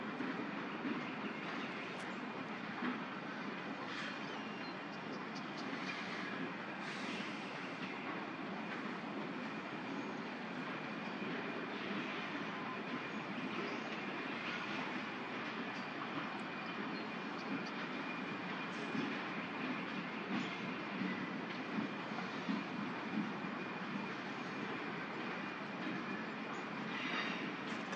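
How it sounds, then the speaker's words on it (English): Steady rumble of a train passing somewhere in the distance outdoors near an osprey nest, a continuous broad roar holding level for almost half a minute, with no one talking. "I think that's a train."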